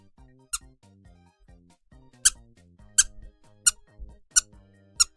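A small rubber Taskmaster duck toy squeaks sharply about six times at irregular intervals, close and loud, over a low tonal backdrop of background music.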